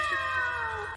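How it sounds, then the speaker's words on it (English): A single cat meow plays back from a video, a drawn-out, slightly falling wail lasting about a second and heard alone, fairly close and clear. "I know Mad Dog loves cats too. Let's see if I got a video"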